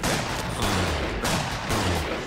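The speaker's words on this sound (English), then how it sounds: "Draw your weapon and fire at will, Felix" Loud, dense burst of weapon fire in a TV commercial, a continuous volley of shots pulsing in quick waves with no pause.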